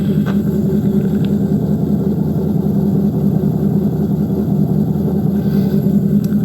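A C5 Corvette with a B and B Billy Boat exhaust idles with a deep, steady rumble, loud and close, its low burble pulsing evenly throughout with no one speaking.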